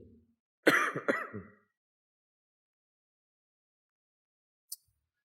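A single rough, hoarse throat-clearing cough, close and fairly loud, followed by silence and a faint click near the end.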